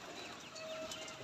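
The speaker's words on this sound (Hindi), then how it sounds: "ये देखें कितने कबूतर बैठे हुए हैं" Soft, low cooing of pigeons close by in a pigeon loft over a faint background hiss, brief and quiet.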